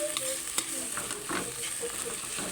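Shrimp go into bitter gourd sautéing in a pan, giving a steady close sizzle with light clinks and scrapes of stirring throughout.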